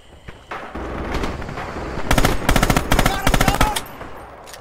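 Automatic machine gun fire in the World War II shooter Red Orchestra 2, loud rapid bursts with sharp repeated cracks, the heaviest volleys coming in the second half over a constant battlefield din.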